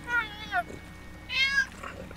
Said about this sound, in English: I remember talking to Miss Kitty here